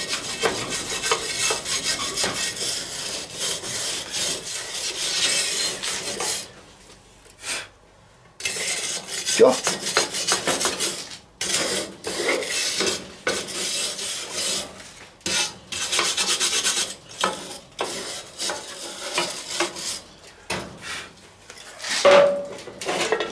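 A metal tool scrapes burnt-on crust from a cast iron Dutch oven during cleaning. Close, harsh rasping strokes repeat steadily for over twenty seconds, broken only by a short pause.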